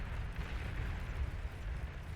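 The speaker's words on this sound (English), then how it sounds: "Goes down, but it also takes out a nice chunk of that army as well with its death explosion." A unit's death explosion in the real-time strategy game Beyond All Reason, heard as a dense, continuous rumbling roar of blasts layered together at a steady, moderate loudness.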